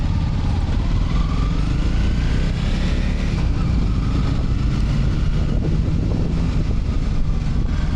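Motorcycle engines rumble steadily at a busy cafe stop in the Pyrenees, with bikes parked along the pavements. The close, constant low drone is mixed with wind buffeting.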